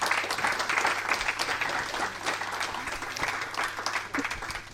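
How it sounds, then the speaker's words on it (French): Audience applause at a public debate on the ocean as a climate regulator: dense, continuous clapping from a room of listeners, fairly soft and steady throughout. "Je vous demande vraiment de les applaudir parce que c'est remarquable."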